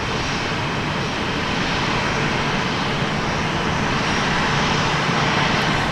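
A jet airliner taxiing to a gate at Minneapolis–St. Paul Airport gives off a continuous loud engine roar with a broad, steady whine that stays level and close for the whole stretch.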